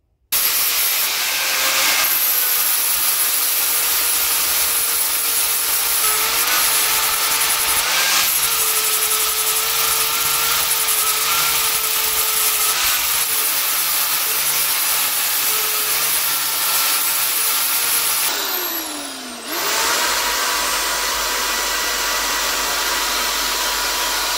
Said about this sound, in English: it's time for some grinding with the flap disc